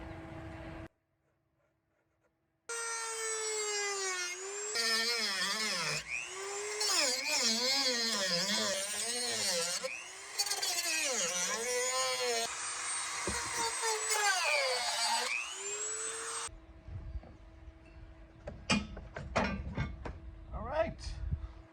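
A power tool whines in rising and falling pitch sweeps while cutting into a plastic Jeep Gladiator bumper, loud and near for about fourteen seconds, then stops, followed by a few sharp knocks and handling sounds.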